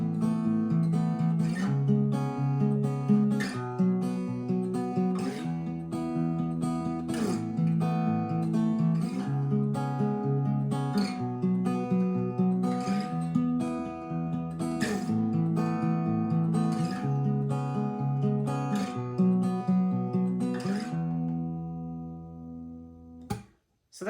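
Acoustic guitar plays the intro of a song at regular speed, steady picked chords and melody ringing clearly with no talking, ending in a short pause and a final strum.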